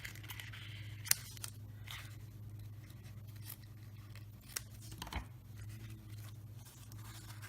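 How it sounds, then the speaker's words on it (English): Scissors snipping away excess paper from a stenciled card panel, quiet close cuts and faint paper rustle over a low steady hum. "now let's cut the extra off"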